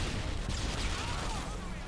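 A grenade going off in the 2009 first-person shooter Modern Warfare 2 sounds as a dense, continuous rumble of blasts and gunfire that fills the whole stretch, loud and steady with no quiet gaps.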